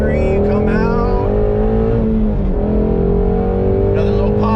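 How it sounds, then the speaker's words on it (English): A Ford Mustang GT350 roars loud and close under hard driving, its engine note dipping mid-clip as a gear change lands with a small exhaust pop before the revs pick up again. "Another little pop on, shifting."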